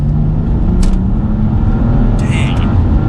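A BMW M235i coupe's six-cylinder engine pulls hard under acceleration, a loud, steady low rumble and drone that holds throughout with little change.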